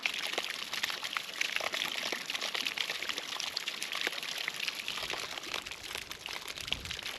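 Hot spring water at Panamik in Ladakh pours and splashes steadily from a sulphur-crusted source, making a continuous close hiss of falling water without pause.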